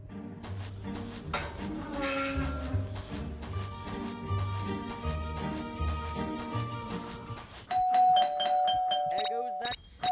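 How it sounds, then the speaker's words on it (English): A doorbell chiming in the video game Scary Teacher 3D, ringing tones over game music and voice, ending with a louder ding-dong near the end. "There goes that stupid bell again"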